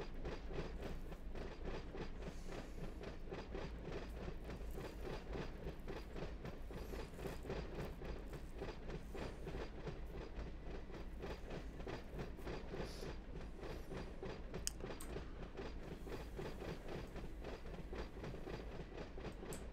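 A freight train on East Tex Rail in the Run 8 Train Simulator game rolls steadily along, with a constant rumbling drone and rhythmic clickety-clack of wheels over rail joints.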